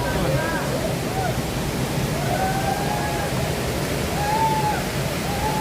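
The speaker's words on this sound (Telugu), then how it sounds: "అబ్బా వాటర్ ఫాల్స్ చూడండి" Hogenakkal Falls on a river in a rocky gorge, heard as a steady, broadband rush of falling water that fills the whole clip, with faint voices and a few whistle-like tones drifting over it.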